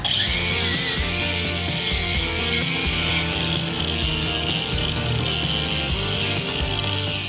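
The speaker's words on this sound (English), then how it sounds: "here's how my grinder's going" An angle grinder scours rust off a car body, a dense, continuous abrasive rasp running loud and steady throughout, with uneven scraping pulses and no talking.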